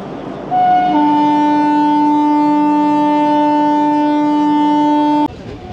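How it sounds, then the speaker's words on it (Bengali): Departure horn of the 12857 Tamralipta Express at Uluberia station: a loud, steady multi-tone horn blast held for about five seconds, then cutting off abruptly, with no talk over it. "ট্রেন ছেড়ে দিল উলবেরিয়া স্টেশন।"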